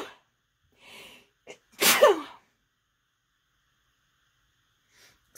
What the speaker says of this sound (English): Usually I sneeze 3 times in a row.